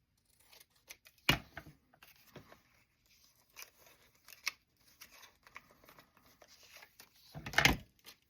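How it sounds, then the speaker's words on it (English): Scissors cutting paper while making paper doll tags and cards: a handful of sharp, close snips, two of them louder, separated by quieter rustles and handling noises, with no talking. "I need to cut that a little narrower"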